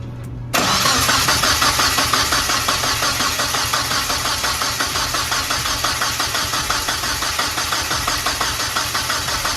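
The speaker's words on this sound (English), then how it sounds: "Just crank it like how you was before." A Mazdaspeed Protege with a failed turbo cranks and catches; the loud, steady engine begins abruptly after a short quiet start and then runs with a rapid, even pulse for the rest of the clip, with no talking.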